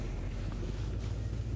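Steady, unbroken wind roars across an open hilltop in South Dakota, buffeting the microphone with a dense, low rumble that stays loud throughout with no other sounds.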